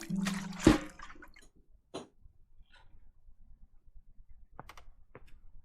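Watering a plant in the game Botany Manor: a short liquid pour with a bright splashy burst near the start, then a few faint drips and soft clicks trailing off into quiet.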